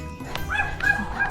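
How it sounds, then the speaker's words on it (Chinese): Several pet dogs on a walk in a suburban setting yip and whine at each other in short, excited bursts, close by and moderately loud, with a low rumble of background noise underneath. "别跟人家葫芦吵架了，真的是出来也吵，在家也吵。"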